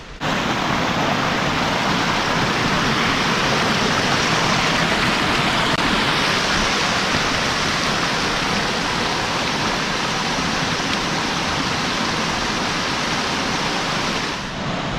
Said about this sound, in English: There's just water rushing everywhere around here